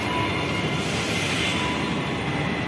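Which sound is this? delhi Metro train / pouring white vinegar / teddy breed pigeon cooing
delhi Metro train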